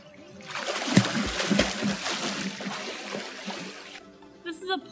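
Water splashes and churns continuously as a beginner adult swimmer pushes off the pool wall with a flutter kick and begins strokes, loud and close for about four seconds before quieting, with faint speech in the background.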